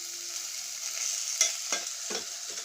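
Suji halwa being stirred in a hot pan: a soft continuous sizzle with several distinct scraping strokes of the spoon, close and clear, no voices.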